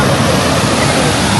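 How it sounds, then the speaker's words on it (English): Rushing river water: a dense, steady broadband roar of flowing water, loud and close, with no pauses or other sounds over the short stretch. "River."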